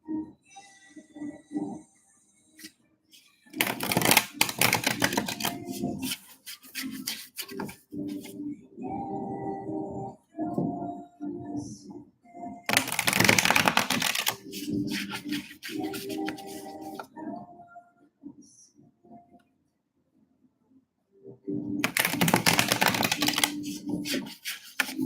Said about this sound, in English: To me, Nancy, when I shuffle your cards, it's funny.